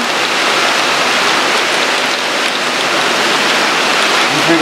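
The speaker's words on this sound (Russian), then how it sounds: "там дождь" Summer rain falls outside in a loud, steady, even hiss of countless drops that lasts the whole stretch without pause.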